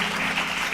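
Audience applause at a Bible study gathering, a dense, steady wash of clapping with no breaks, held at an even level for under a second.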